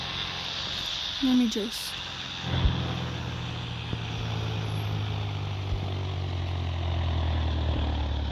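In the PTFS flight game, a plane touches down and its engine drones on a steady low hum that carries on after landing, with a thump near the touchdown and a person talking briefly over it.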